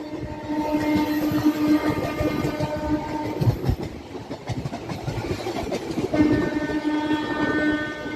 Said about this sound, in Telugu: ఈ మధ్యలో ఒక super fast train journey enjoy చేద్దామని చెప్పేసి ఎక్కానండి ఈ బండి.